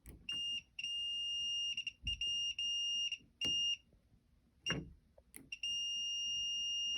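A high electronic beep from a multimeter continuity test on a high limit switch sounds in long and short bursts, starting and stopping repeatedly, with quiet clicks between them and no talking.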